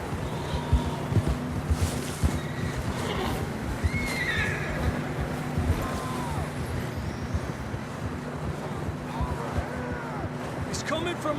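Horses in Red Dead Redemption II whinny, with shrill neighs rising over a dense bed of clopping hooves, wind and movement throughout, while a voice talks faintly underneath.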